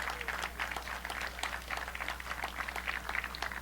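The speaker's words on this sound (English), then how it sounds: "So, let's give a big round of applause to our MC, Tony Signoli, Tony C." Steady applause from a crowd at a 9/11 remembrance ceremony in Springfield, many hands clapping continuously at a moderate distance with a low hum underneath.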